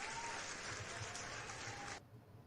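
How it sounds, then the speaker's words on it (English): Recorded applause sound effect played during a podcast, a steady crowd clapping wash that cuts off abruptly partway through, leaving quiet room tone. "That's my applause."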